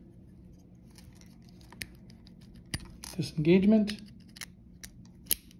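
A CONEC SnapLock D-SUB connector hood gives a few small, sharp clicks, scattered and close, with someone speaking briefly in the middle.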